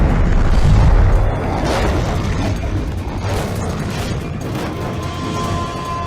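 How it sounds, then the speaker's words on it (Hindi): Huge movie explosion as a bridge target is blown up, a deep booming roar with rumbling debris that stays loud and dense for several seconds, with faint creaks and pops in the tail. "अब मैं अगला टारगेट उड़ा रहा हूं।"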